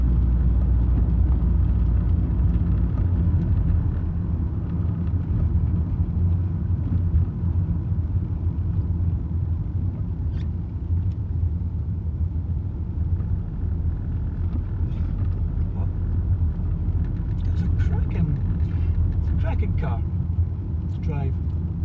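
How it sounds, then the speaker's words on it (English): Inside a 17–18-year-old Rover 75 Connoisseur SE CDTI diesel saloon on the move, a steady low road and engine rumble fills the cabin, with faint, scattered rattles from the dashboard. "There's a wee bit of rattle from the dash."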